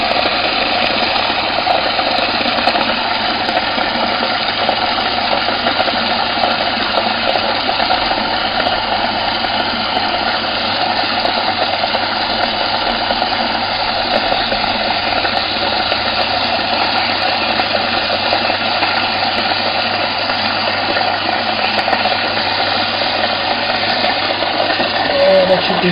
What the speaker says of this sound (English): Submersible pump, 240 volt.